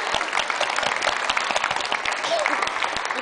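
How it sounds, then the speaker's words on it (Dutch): Café audience at a choir music performance breaks into full applause, dense rapid clapping from many people, loud and steady for the whole stretch. "Een applaus."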